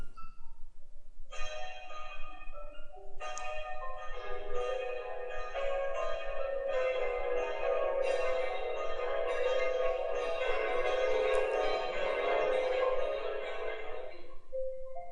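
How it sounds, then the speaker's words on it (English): Church bells ring out at a wedding in the visual novel Princess Evangile, a dense, layered peal of overlapping chimes that starts after a short pause and rings on steadily, loud and sustained, with no voices. "Bells went out to bless our union."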